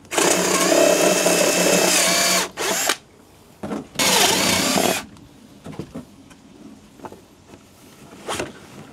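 A power drill bores out a cable entry hole in the casing of an EV charger, two loud whining bursts of a few seconds each with short spin-ups between, then quiet handling clatter.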